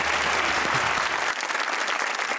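Studio audience on a Pakistani comedy show breaks into loud, steady applause that fills the whole short stretch, with dense clapping and no talk over it.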